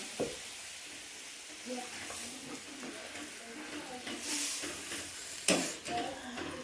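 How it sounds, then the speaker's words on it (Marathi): Hot tempering poured over spinach bhaji with roasted masala sets off a loud, steady sizzle that crackles for several seconds, with a sharper burst near the end and a faint voice in the background. "नाही मस्तपैकी चरका बसला पाहिजे बरं का भाजीला"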